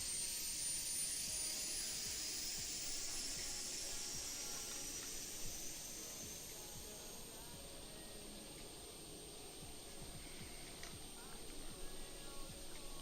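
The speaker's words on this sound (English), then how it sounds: "There's that APU noise." An Embraer 175 auxiliary power unit in a flight simulator game, an Alaska SkyWest airliner, gives a faint, steady high-pitched whine over a soft broadband hiss that holds evenly throughout.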